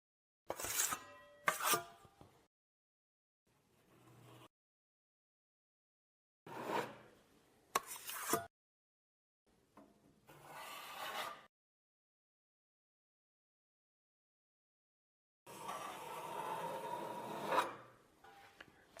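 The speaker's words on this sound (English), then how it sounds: "This time, we pull the spatula wider than before, aiming for a width of approximately 25 to 30 centimeters" Spatula scraping and spreading gypsum plaster across a drywall track junction, heard as several separated rasping strokes of one to two seconds each, close and fairly quiet, with silent pauses between them and a longer final stroke.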